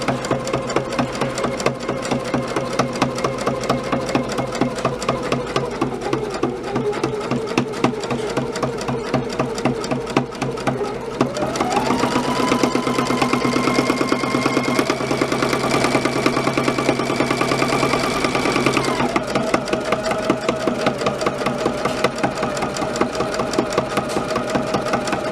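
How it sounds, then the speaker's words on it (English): A sewing machine does free-motion quilting of straight lines, its needle chattering in a steady close drone that speeds up partway through, holds at the higher rate, then eases back. "And that's how I stitch my straight line with free motion."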